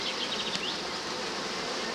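Bees buzz in a dense, steady hum inside an opened beehive, close and continuous, with one insect passing briefly nearer.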